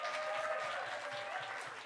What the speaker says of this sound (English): Can we give a massive round of applause to our friends in Quebec City?